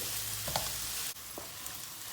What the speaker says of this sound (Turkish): Orta ateşte soğanlarımızı kavurma işlemine başladık.